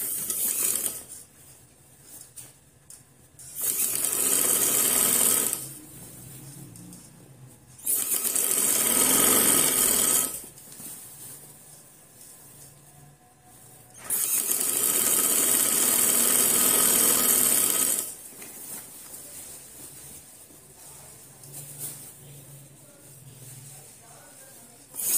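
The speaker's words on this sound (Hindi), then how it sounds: "अब मैं इसको ये भी फोल्डिंग से ही टांका लगाऊंगी" A sewing machine stitches a folded seam on silk trousers, running in three loud bursts of several seconds each, separated by quieter pauses with faint handling.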